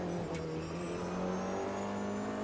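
An LMP race car in Automobilista 2 drones with a steady, loud engine note holding a constant pitch, one continuous near whine with no talk.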